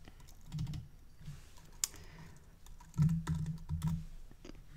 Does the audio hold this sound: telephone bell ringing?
no